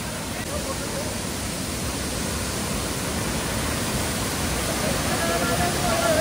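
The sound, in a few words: waterfall roaring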